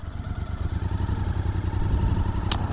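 Royal Enfield motorcycle engine running steadily with a loud, close, low throbbing thump and a faint whistling tone above it, then a brief sharp click near the end; no talking.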